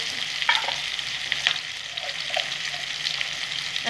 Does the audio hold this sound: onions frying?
yes